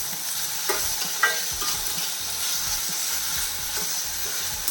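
Raw jackfruit being sautéed with a pinch of salt in a pan with very little oil, giving a steady close sizzle with scraping stirs and a few sharp clicks of the spoon against the pan.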